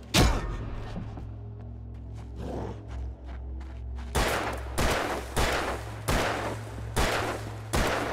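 Gunshots ring out in Alan Wake Remastered: one loud shot at the start, then after a quieter stretch a run of five heavy, evenly spaced blasts, loud and close with no talking.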